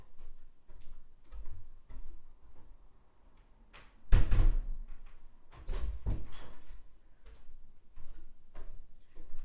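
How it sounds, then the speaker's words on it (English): A door is shut in a quiet room during a movement and mindfulness class, giving one loud, solid thud with a brief rattle, then a second softer knock about two seconds later. "I'm just going to shut the door."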